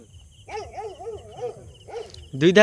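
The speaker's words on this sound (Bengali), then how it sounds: "কুকুর ডাকছে, চারিদিকে কুকুরও ডাকছে, আমাদের সতর্ক করছে।" Several dogs bark and howl near a crematorium path between canals and fisheries, a run of wavering calls followed by a louder, closer burst at the end.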